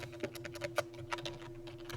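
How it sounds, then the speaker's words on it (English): Quiet, close keystrokes on a computer keyboard, an irregular patter of individual clicks with slight pauses between them. "we're going to type compare"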